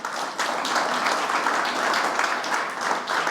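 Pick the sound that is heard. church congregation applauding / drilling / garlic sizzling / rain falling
church congregation applauding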